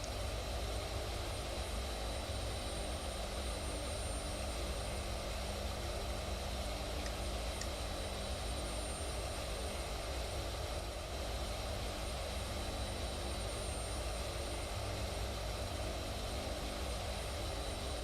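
Steady, dense drone of Lockheed C-130 Hercules turboprop engines in a flight simulator game over Bali, Indonesia, continuous and even for the whole stretch with no talk.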